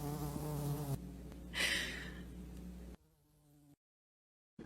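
A bee or similar insect buzzes loudly and close by, its drone wavering in pitch before cutting out into silence.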